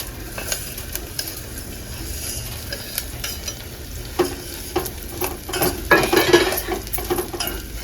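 Vermicelli fries in ghee in a pan with a continuous close sizzle, while a utensil repeatedly scrapes and clinks against the pan as it is stirred, growing busier toward the end.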